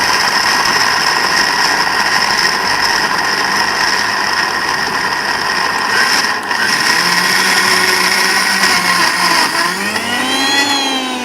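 A blender grinds dates into a coarse puree, a loud, steady whirring roar that holds for a while, then the motor pitch sweeps and shifts near the end as it slows and restarts.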